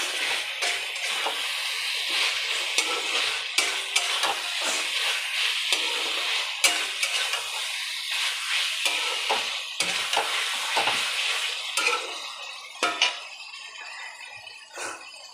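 Paneer cubes stirred and frying in a pan, with a steady crackling sizzle and repeated scraping clicks from the spatula running throughout.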